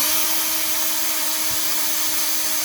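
Cordless two-speed drill in first gear driving a Trailer Valet trailer jack to raise the trailer, a steady, close, continuous motor whine with a constant tone and no pauses.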